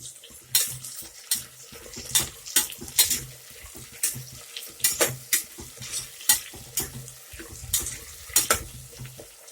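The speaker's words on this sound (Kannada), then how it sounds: "ಈಗ ಹಸಿಮೆಣಸಿನ್ಕಾಯಿ ಹಾಕ್ತಾ ಇದ್ದೀನಿ. ಇದು ಸ್ವಲ್ಪ ರೋಸ್ಟ್ ಆಗಬೇಕು ಎಣ್ಣೆಯಲ್ಲಿ." Green chillies roast in hot oil in a pan, with a steady sizzle broken by frequent sharp scrapes and clinks of a spoon stirring against metal, close and loud, with no talking.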